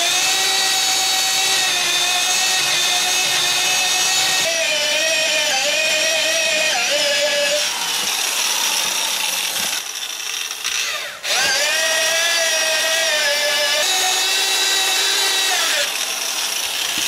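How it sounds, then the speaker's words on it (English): A half-inch electric drill turns a 2-inch bit into a log, a steady high motor whine with grinding wood chatter that dips briefly as the drill slows and pauses near the middle, then spins up again, close and loud. "I'm going to use just my 1/2 inch drill with that 2-inch bit in it"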